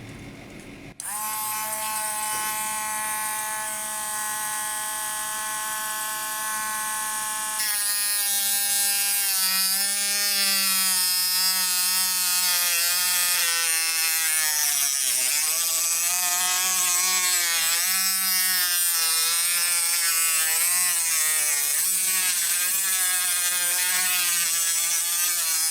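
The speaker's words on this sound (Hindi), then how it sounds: "अब ये देखिए घूम रहा है। इस ग्राइंडर की मदद से हम लकड़ी को काट भी सकते हैं।" An electric mini drill grinder runs steadily, a loud high-pitched whining motor hum that starts abruptly, steps up in speed, then wavers slightly in pitch as it keeps spinning, with no voices.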